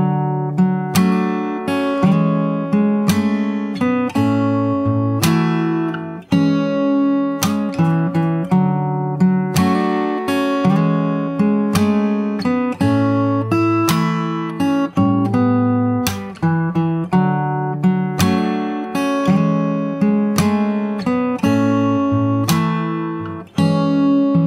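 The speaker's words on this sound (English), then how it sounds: "So that's the whole chorus. I'll play the whole thing once." Fingerstyle acoustic guitar plays the chorus, a steady flow of plucked notes and chords with a sustained bass line, loud and close, solo with no voices.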